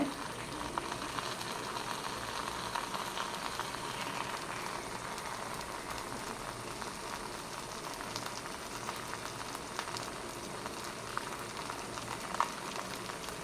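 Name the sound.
oil sizzling while frying egg in banana leaf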